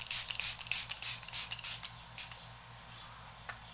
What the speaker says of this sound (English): I'm taking my Revolution Super Fix Super Hold spray